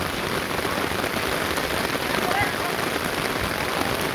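Heavy rain falling steadily on an outdoor surface during a rainy-day football game, a dense, loud, unbroken hiss of drops with no clear voices.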